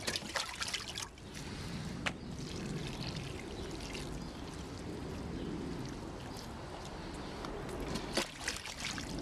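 Water pours from a pitcher holding about 2 quarts, trickling steadily for several seconds, a soft continuous splashing with a few brief knocks at the start and end.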